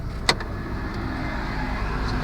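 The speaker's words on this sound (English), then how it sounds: "So I'm going to open the door now." The door of a Toyota Corolla is opened: a single short latch click lands early, then the quiet low hum of the car's surroundings carries on.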